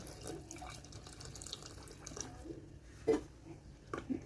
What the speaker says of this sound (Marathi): त्यामध्ये मी उकळून घेतलेले गरम पाणी हे टाकत आहे